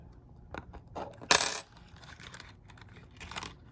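A plastic case snaps on a Lincoln/Ford smart key fob: a sharp, bright metallic click heard close, surrounded by quieter handling taps and small rustles.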